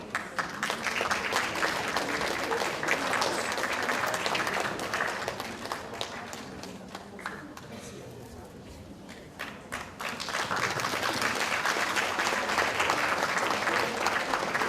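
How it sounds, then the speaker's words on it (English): Conference audience giving a round of applause, steady dense clapping that fills the room, dipping briefly to a thinner patter midway before swelling back to full strength. "Let's all give a round big of applause to Mr. Tom Ware"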